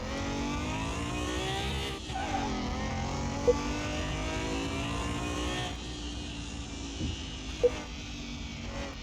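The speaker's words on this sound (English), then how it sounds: "This has got a very interesting car sound" A car in the Car Mechanic Simulator 21 video game drives on a test track. The engine note rises and falls steadily at a moderate level, with a couple of brief clicks and no talking.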